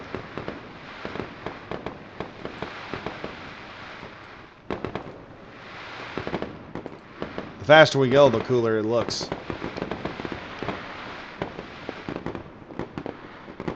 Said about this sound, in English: That's a nifty little fireworks display right there.